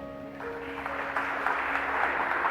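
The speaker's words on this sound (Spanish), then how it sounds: "¿Podemos darle un aplauso a Dios?" A church congregation breaks into applause, the broad clapping swelling in after a short tonal sound and holding steady, moderately loud, with no speech over it.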